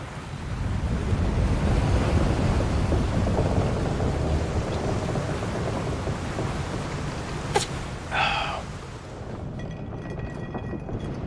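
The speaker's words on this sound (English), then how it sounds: "We're in for a proper storm, it seems." Stormy weather with rain and wind in Final Fantasy XIV Dawntrail, heard aboard a ship's deck: a steady broadband roar of rain and gusts throughout, with a brief sharp crack and a short burst near the end.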